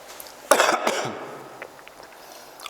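Two sharp coughs from one person, close and fairly loud, the second slightly weaker, followed by a quiet, fading tail.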